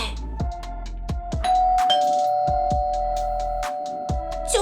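A bright electronic doorbell chime rings out in the Toca Boca video game, a sustained tone layered over repeated plinking notes and soft thumps, clear and close.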